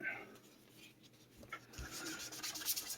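Faint, soft rubbing strokes come from fine 3200-grit sandpaper worked across a Telecaster guitar body. The quiet, uneven swishes are spread over a few seconds, with light background noise.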